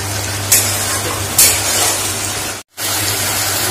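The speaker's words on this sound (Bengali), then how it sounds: "এখন এটা ভালো করে ভাজা হলে তাকে নামিয়ে দেবো একটু করে।" Salted tomatoes sizzle and fry in a pan while being stirred, a loud continuous hiss with a couple of sharper scraping bursts and a brief gap near the end.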